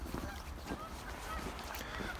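Geese and other waterfowl gather at a river park in winter, honking in a busy, overlapping flock at moderate distance over a broad outdoor wash of background noise.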